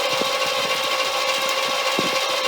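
A G-Body Monte Carlo engine spins over under the starter with the key, a steady loud whirring drone with faint repeating pulses and a couple of sharper clunks, no voices.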